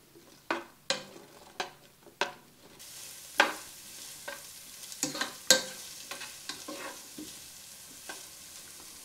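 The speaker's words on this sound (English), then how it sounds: "Okay, the onions are starting to saute now" Chopped onions sautéing in a pan for Mexican pinto bean soup, with about a dozen sharp spoon scrapes and stirs at uneven intervals over a soft, steady sizzle, close and moderately loud with no voices.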